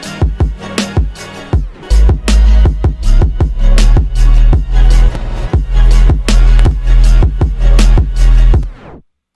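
Chopped vocal samples with heavy delay, made in FL Studio, play as a loud rhythmic pattern of punchy bursts over deep bass hits, each repeating and trailing away, then stopping abruptly.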